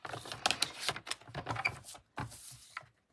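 Designer series paper card stock being cut on a paper trimmer, a series of close scraping and clicking strokes that stop abruptly near the end.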